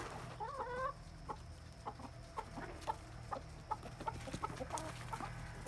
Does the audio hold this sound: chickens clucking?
yes